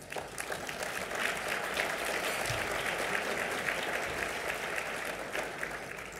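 Sustained applause fills the room at a Cayman parliamentary luncheon, a steady wash of many hands clapping from a large crowd, even in level and heard from some distance.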